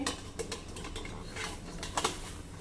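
A metal mesh steaming plate set down into a pot in a home kitchen, giving a few light clinks and scraping rattles of metal on metal, faint and close, with no talk.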